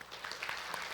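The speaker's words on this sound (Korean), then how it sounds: "우리를 통해 영광을 받으신 하나님께 박수를 보내겠습니다." A church congregation applauds during a Sunday worship service, a brief dense patter of many hands clapping at a moderate distance.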